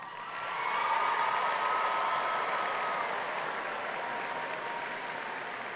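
An audience applauds at a SkillsUSA 2017 youth speaker event, dense clapping that swells within the first second, holds steady and then eases slightly, with no voices over it.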